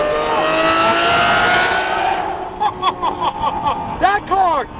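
A powerful 6.5-liter V12 sports car engine roars loudly and steadily, then barks through a series of sharp, rapid revs near the end.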